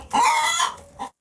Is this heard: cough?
no